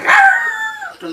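A single voice imitates a dog howling: one brief, close, loud howl that slides downward and fades, followed by a short softer sound.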